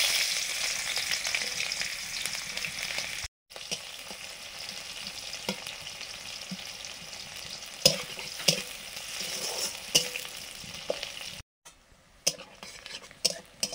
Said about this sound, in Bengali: ফোড়ন ভাজা হয়ে যেতেই পেঁয়াজ কুচি দিচ্ছি।